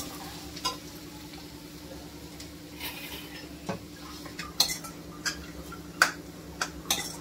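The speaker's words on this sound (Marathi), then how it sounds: "आता याला चांगलं मिक्स करूया आणि कलर येऊ देऊया आपण।" Onion and bay leaf stirred in a pan for dal tadka, a soft low sizzle underneath intermittent spoon scrapes and light metallic taps against the pan, close but fairly quiet, with no talking.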